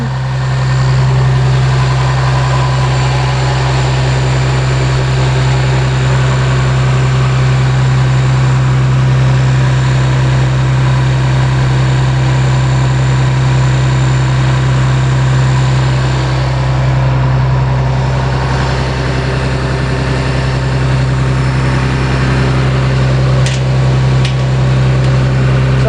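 A Cummins ISC 8.3-liter turbo diesel in a 2006 Bluebird All American school bus idles steadily with a deep, loud low rumble and constant hum, unbroken and without talk throughout.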